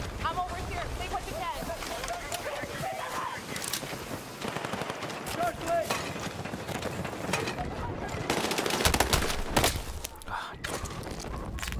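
Rapid automatic gunfire and scattered shots in the shooter game Battlefield 6, dense and continuous over rumbling battle noise, with a voice talking briefly in the middle.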